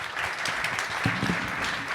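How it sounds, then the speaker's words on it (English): Audience at an AI research conference applauding its panel, a steady dense wash of clapping held at even volume for two seconds, with no voices over it. "If we could get a round of applause for everyone who spoke today."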